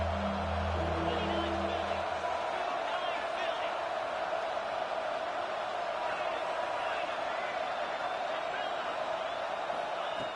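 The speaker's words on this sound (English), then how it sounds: "here comes the noise. This crowd is trying to inspire this defense to make a big red zone stop." A football stadium crowd roars continuously for the defense near the goal line, a dense, sustained wash of distant cheering and noise that holds steady throughout, with a voice talking briefly at the start.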